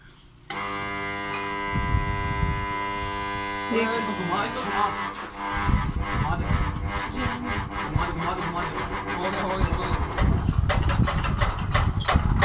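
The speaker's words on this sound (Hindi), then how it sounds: "ये हमारे पास चॉपर है और ये इलेक्ट्रिकल है" An electric fodder chopper whirs up and runs steadily with a droning hum and rapid rhythmic chopping clatter, loud and close, no talking.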